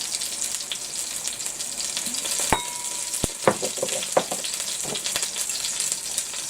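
Turkey patties sizzle steadily in a frying pan, a close broadband hiss broken by a few sharp utensil clicks and taps against the pan, with no talking.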